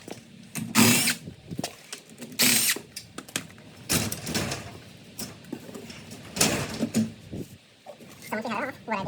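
A power tool and ratchet remove bolts from a garage door track: short whirring bursts and clicking mechanical sounds at close range, broken by pauses, with someone talking between them.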